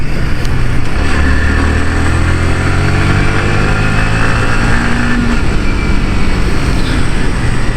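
Yamaha R15 v3 150cc motorcycle engine revving steadily while being ridden, a loud continuous drone with rising harmonic tones as the revs climb, heard alone without talk.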